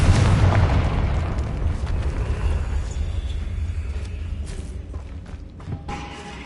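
A Confringo blasting spell bursts in Hogwarts Legacy, a loud booming explosion at the start that rolls into a long low rumble and slowly fades, with a few faint crackles and debris pops trailing after.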